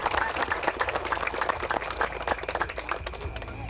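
Steady crowd applause with crisp, rapid claps filling the space at a shopping game show weighing event, continuous and moderately loud throughout.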